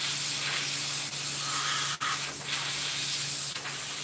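A steady, continuous hiss of liquid coating sprayed onto a glove in a shop, close and even for several seconds with only brief dips.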